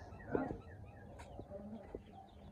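Chickens cluck in a village yard, a few short, faint calls, the clearest near the start, over quiet outdoor background noise.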